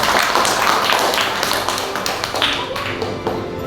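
Applause from a fourth-grade class after a group's score is announced, a steady dense patter of many hands clapping throughout, loud and close, with faint voices mixed in.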